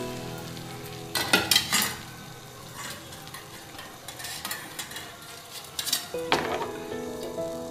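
Beaten egg poured into a hot pan for a bread omelette, sizzling and frying as a utensil clinks and scrapes against the pan in short bursts.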